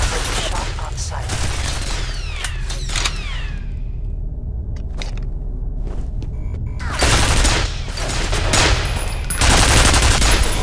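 Automated defensive turrets in the shooter game F.E.A.R. fire sustained bursts of automatic gunfire with booming impacts, loud and close, dropping briefly before a heavier volley resumes.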